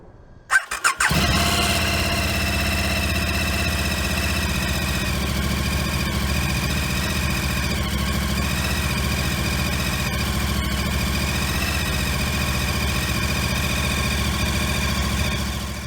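A motorcycle engine sputters and catches, then settles into a steady, loud idle with a whining mechanical squeal running throughout.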